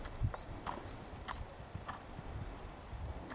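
A horse trotting in a riding lesson, hooves clip-clopping in a steady two-beat rhythm at moderate distance, fairly quiet over low background noise.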